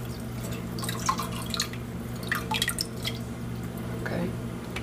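Viscous broth with its fat is poured into a pot, making soft splashes and drips over a steady low kitchen hum. The liquid sounds come intermittently at moderate volume.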